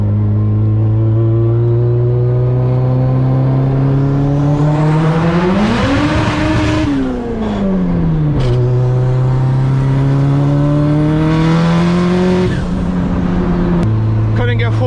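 A turbo Honda Integra with a tucked radiator accelerating hard, the engine note climbing loudly in second, dropping as the driver tries to shift to fourth, then pulling up again; the close, continuous drone fills the whole stretch.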